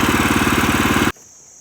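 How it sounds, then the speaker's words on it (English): A Woodland Mills HM122 sawmill running through hardwood, a loud engine-driven pulsing drone with a regular fast beat, cutting off abruptly to near quiet near the end. "Now we're sawing hardwood."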